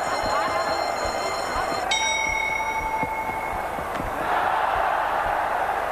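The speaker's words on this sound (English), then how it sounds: "They're going to cheer their champion on in round three." A boxing crowd at a WBC flyweight title bout roars steadily throughout, a dense continuous wash of cheering with a ringing bell-like tone cutting in partway and faint thuds underneath.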